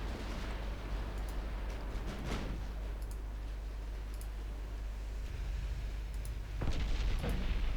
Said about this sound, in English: And the heavy cruisers are also firing.